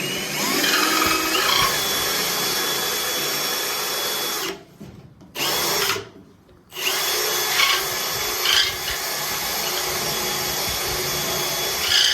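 A power drill bores a hole in metal for a 1969 Trans Am fender job. It whines loudly and close, with two brief pauses partway through before the drilling resumes. No one speaks.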